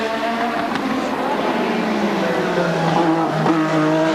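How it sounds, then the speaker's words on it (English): A 1986 Lola Grand Prix car with a Ford Cosworth V6 engine screams at high revs during practice for the 1986 Australian Grand Prix, a loud, sustained tone with its pitch rising and dipping as the driver shifts and brakes. "And there is Alan in the very pretty Lola Pass with its Ford Cosworth"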